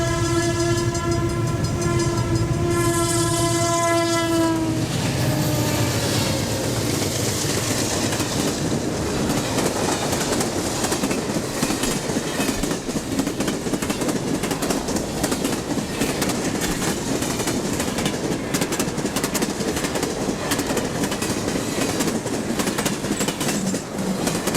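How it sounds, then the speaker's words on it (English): Burlington Northern westbound freight train passing at Sandwich, Illinois: a loud horn blast opens, then the close, continuous roar and clatter of the wagons rolling by for the rest of the stretch. "We catch a Burlington Northern westbound freight at Sandwich"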